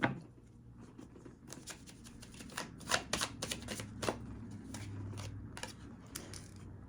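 Tarot cards are shuffled by hand, a quiet close-up run of crisp riffling flutters and soft slaps in irregular bursts against a low background hum.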